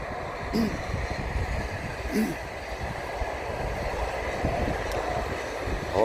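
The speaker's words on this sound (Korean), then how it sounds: "기차가 쫙 지나가고 있습니다" A train rolls past outdoors under open sky, a steady broadband rumble and rattle of cars lasting throughout, with a voice briefly audible over it.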